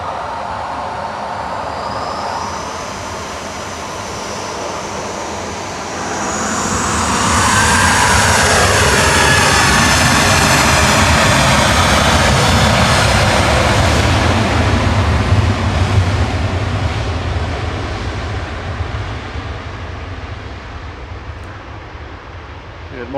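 An Etihad jet airliner passing overhead above Stockport, its engine roar swelling from a quieter rumble into a loud, sustained broadband wash that holds for many seconds before easing slightly, with a swept whine sliding through the middle.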